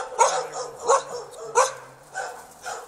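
Norwegian Elkhound dogs bark outdoors, five moderately loud, evenly spaced barks with a faint low hum between them.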